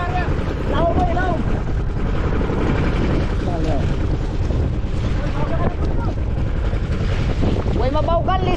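Strong wind buffets the microphone aboard a boat at sea, a constant loud roar and rumble throughout with a motor underneath; people talk over it.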